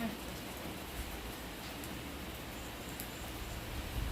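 Steady rain hisses evenly on a surface, a constant close wash of patter without a break.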